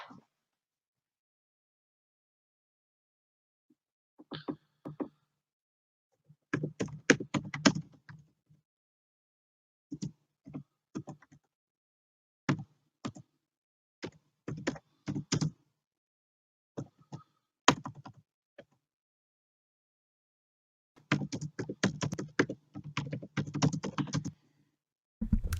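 Bursts of rapid clicking from a computer keyboard being typed on during chat, coming in short irregular flurries separated by pauses, with a longer dense burst near the end.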